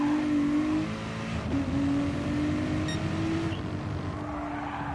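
A Ford race car from GT Sport laps the Laguna Seca circuit, its engine droning loud and steady with shifting revs and a brief tire squeal, with no talking.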